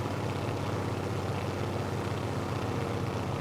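Avro Anson twin propeller engines in Microsoft Flight Simulator 2024 at reduced throttle, a steady, even droning hum with no other sounds.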